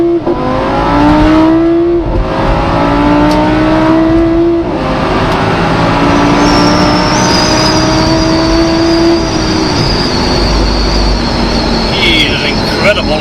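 An Audi R8 V10 Spyder with S-tronic gearbox accelerates hard, its engine note climbing loud and close through several rising sweeps broken by quick gear shifts.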